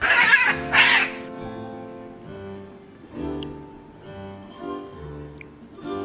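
Oliver the cat lets out a drawn-out, pitched meow with a rough, caterwauling edge, then a run of shorter wavering calls, up close and loud with nothing else over it.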